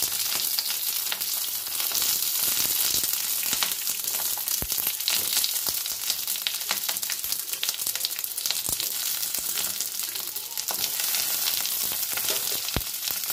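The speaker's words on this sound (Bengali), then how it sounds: "সবার প্রথমে এর মধ্যে আমি বড় টুকরো করে কাটা পেঁয়াজ, ক্যাপসিকাম আর টমেটোটাকে একটু নাড়াচাড়া করে তুলে নেব।" Large chunks of onion, capsicum and tomato stir-frying in hot mustard oil, a loud, continuous close sizzle with scattered crackles and occasional spatula knocks throughout.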